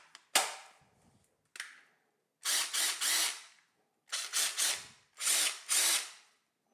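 Ryobi R18ID2 18V ONE+ cordless impact driver, a brushed model on a 4Ah battery, runs in several short loud bursts of rapid hammering, with one brief blip early on and clear pauses between the later runs, close by.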